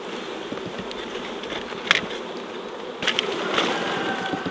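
A honeybee swarm hums as a steady, dense buzz, with bees flying close past the listener during swarm catching and louder passes near the middle and end.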